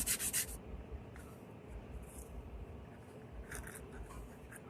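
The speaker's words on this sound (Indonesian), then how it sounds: "kita lihat abang kita sedang mengamplas" Sandpaper scrubs a twin coconut shell being cleaned for bonsai, giving a steady close rasping rub with a few sharper scratchy strokes and no voices.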